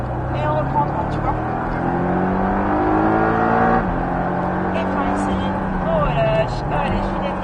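A Porsche 718 Cayman S accelerating on a race circuit during a driving course, engine note rising and sweeping through the revs, loud and continuous from inside the car under a constant roar.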